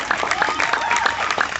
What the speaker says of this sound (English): Here they are clapping for themselves.